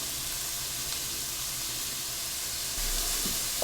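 Celery, scallions and garlic cooking down in a soup pot for shrimp and corn chowder, a soft steady sizzle and hiss that holds level throughout, slightly louder near the end.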